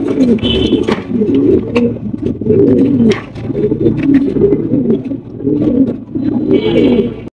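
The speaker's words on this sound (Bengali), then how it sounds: "রয়েছে রেড কালারের মধ্যে একজোড়া বিশাল সাইজের হাউস পিজন কবুতর মাশাআল্লাহ।" A pair of large red house pigeons coos close by, with repeated low rolling coos in steady succession across the whole stretch and some faint chirps in the background.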